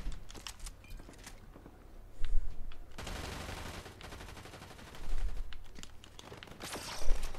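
Fortnite video game gunfire: bursts of rapid automatic shots, loudest around the middle and near the end, with scattered single shots and shuffling in between and no voices.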